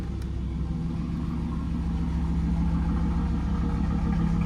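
A 1991 Pontiac Firebird Formula with a 350 V8 idles close by, a steady, deep lumpy rumble with an even throbbing pulse and no talk.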